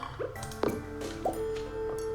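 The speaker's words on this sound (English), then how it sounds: "Put water in Fartomo's bowl" Water poured into a pet's bowl in the Stardew Valley farming game, a few short liquid drips and splashes over soft background game music.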